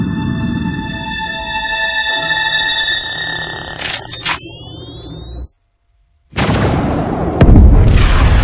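A thermonuclear bomb exploding in an Iron Man video game. Rumbling and electronic tones run up to a sudden silence, then a loud, broad blast roars in and lingers.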